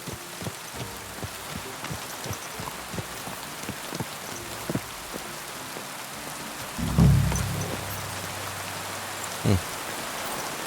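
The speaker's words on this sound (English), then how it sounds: "Oh, now it's raining." Steady rain pattering on surfaces with scattered nearby drips, a continuous hiss throughout, interrupted by a couple of low thumps.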